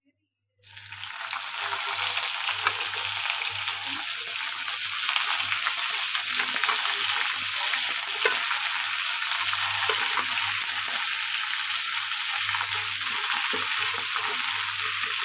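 Chopped ivy gourd sizzles steadily in a hot pan with fried lentils and dried red chilli, a bright continuous frying hiss that starts suddenly and holds at an even level, with faint stirring scrapes beneath.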